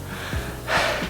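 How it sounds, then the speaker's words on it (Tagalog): A person in an office during lockdown breathes hard and out of breath, a few audible gasping inhales and exhales over faint room noise. "hingal ako."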